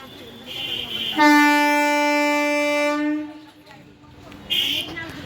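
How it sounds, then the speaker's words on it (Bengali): A train horn sounds a long steady blast for about two seconds over rumbling rail noise as a train passes Belgharia station, with brief squeals before and after. "একদম দেখো ট্রেন যাচ্ছে আর এই যে ট্রেন যাচ্ছে"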